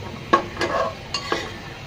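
Garlic and ginger paste spices fry and get stirred in a pan: three or four quick spatula strokes scrape over a low, steady sizzle.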